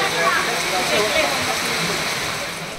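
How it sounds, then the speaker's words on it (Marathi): Heavy rain pours down at Bhandardara near Nashik, making a dense, even hiss that stays loud and constant and fades slightly toward the end. "आणि अशा प्रकारे पाऊस जोरात सुरू झालेला आहे"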